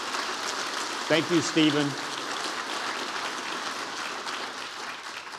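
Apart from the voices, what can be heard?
audience applause at a museum talk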